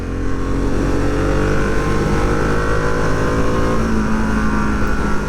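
A 2022 Harley-Davidson Sportster S engine pulls hard while riding, a loud continuous throaty drone that climbs steadily in pitch with wind rush and no voices.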